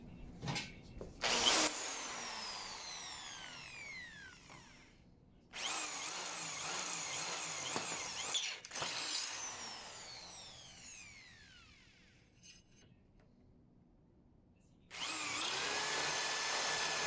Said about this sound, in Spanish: vamos a utilizar esa broca para hacer un perforado en esta parte en la que está fuera de la mordaza.